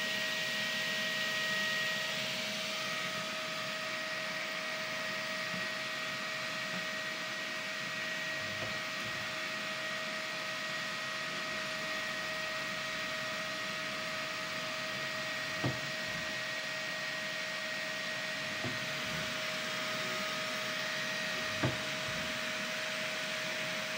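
A fully automatic 3D printer runs while printing an air filter bracket for a Husqvarna 3120XP chainsaw, giving a steady faint whir and hum with a constant tone and a few soft clicks, no talk.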